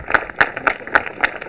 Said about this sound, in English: A little round of applause for Mary Dunning.